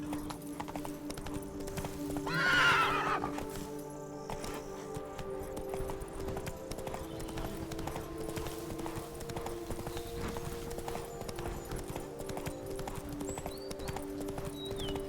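Hooves of Roach, a horse in The Witcher video game, clip-clopping at a steady quick pace throughout, with a brief whinny early on and faint game music underneath.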